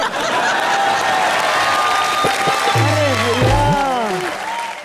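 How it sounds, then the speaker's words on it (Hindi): A studio audience on a comedy show applauds Bharti Singh, a continuous roar of clapping under music and laughter, loud and close throughout. "एक बार जोरदार तालियां भारती सिंह के लिए।"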